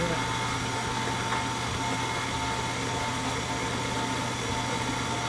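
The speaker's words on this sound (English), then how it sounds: "Now we're going to put our mixer down, and we're going to start" An electric hand mixer beats almond cake batter, giving a steady, continuous motor whir with a constant hum that holds evenly without a break throughout.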